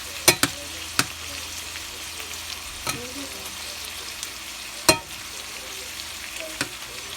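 Ground beef burger frying in a pan for teriyaki beef, a steady close sizzle broken by several sharp spatula knocks and scrapes as it is flipped and flattened.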